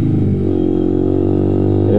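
Kymco Quannon 125 motorcycle engine running steadily up close, a continuous low rumble with a faint rise in pitch near the end, loud and alone without voices.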